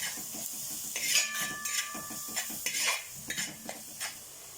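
Masala being stirred and sautéed in a pan, with repeated scraping and clinks of a metal spoon over a soft sizzle.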